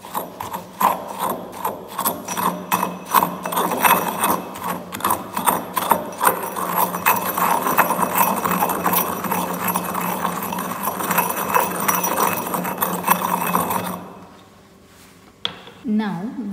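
Dried soil sample ground hard in a mortar, a continuous close rattling, scraping grind with rapid rhythmic strokes for about fourteen seconds, then stopping, followed by a few quieter handling sounds.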